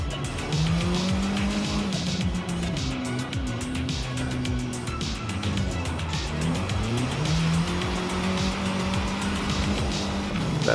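A race car slides around a rallycross track in a racing video game, its tires squealing over a loud, steady engine drone that rises and falls with the throttle, continuous throughout with no talking.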